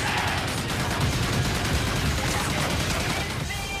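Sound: minigun firing in Call of Duty Ghosts video game trailer

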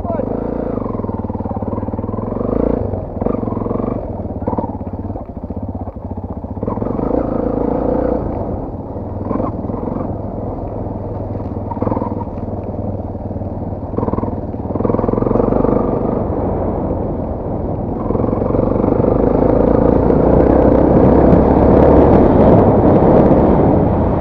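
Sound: vehicle engine started and running

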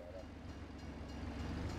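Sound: train passing in farming video game

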